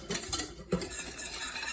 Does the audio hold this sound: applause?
no